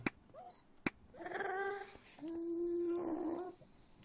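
Dogs in the Minecraft game whine and yip in short tonal cries, one drawn-out whimper following another, quiet and with no talking over them.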